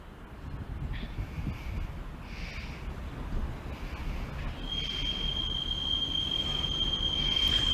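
Low rumble of a train rolling along the rails at a level crossing in Lincoln, growing steadily louder, with a thin high squeal of wheels entering partway through.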